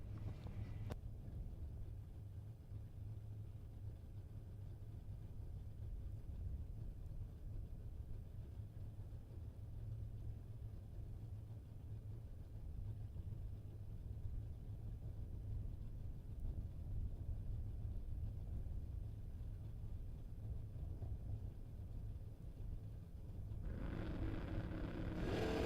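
A carbureted 1984 Camaro drag races a Vega at a bracket drag race: a steady, distant engine drone mixed with wind rumble runs throughout, with no talk.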